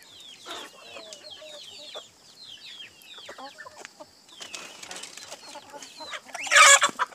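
Chickens and chicks at feeding time: high peeping from the chicks and some clucking, plus a brief louder flutter or squawk near the end, with no talk.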